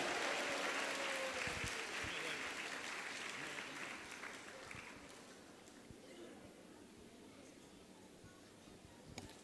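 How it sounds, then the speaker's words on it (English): An audience applauds a children's drama performance at an ISKCON temple event in Madurai, a dense, steady round of clapping that starts loud and gradually thins and fades over several seconds, with faint voices underneath. "You can give a loud round of applause"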